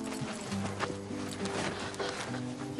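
A horse gallops with a muffled, rhythmic beat of hooves under a layer of dramatic background music, moderately quiet throughout.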